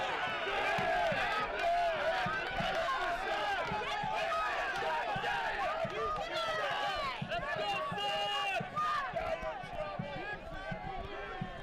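Crowd noise from New Mexico fans in the stands at a Phoenix Rising FC versus New Mexico United soccer match, a steady distant roar of cheering and chanting with voices overlapping throughout.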